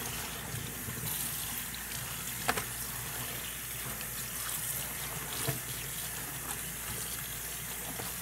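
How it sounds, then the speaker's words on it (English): Tea-stained fabric being rinsed under a running tap, a steady close rush of water over a sink with a couple of brief clatters and no talking. "So I'm just going to give it a good rinse."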